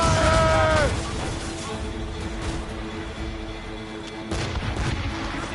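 Booming cannon fire from sailing warships in a naval battle, with a heavy opening blast that decays into rolling rumble and scattered further reports under a continuous battle din.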